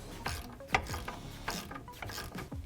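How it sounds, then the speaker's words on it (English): A socket ratchet clicks in quick bursts while tightening a tie rod nut with a 19mm socket on a Chevrolet Silverado's upper control arm, close and clear with no talking. "Tighten it down with a 19mm socket and a 13mm wrench."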